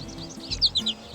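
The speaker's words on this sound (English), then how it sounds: "This is a sparrow." A sparrow chirps in a short burst of three or four quick, bright tweets, close and clear over a quiet background.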